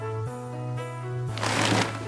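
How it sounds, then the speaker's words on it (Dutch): A thick stack of paper documents such as insurance policies and a pension folder is handled. A short burst of papery rustling and shuffling comes near the end over a steady tonal hum. "Ja, dit is wel een paar kilo papieren."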